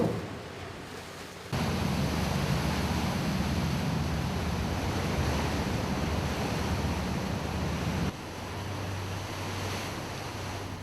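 Sea waves around a hospital ship sailing among remote Korean islands, a steady broad wash of surf and water noise with wind buffeting the microphone, continuous and moderately loud throughout.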